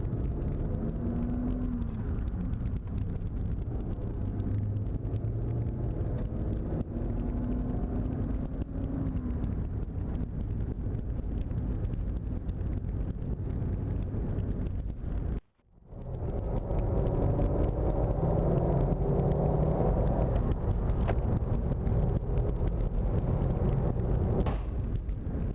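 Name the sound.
1941 Cadillac Fleetwood 60 Special driving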